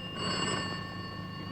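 Telephone ringing in an old Hindi film scene, a steady electric bell tone sounding alone and fairly faint for a moment with no voices over it.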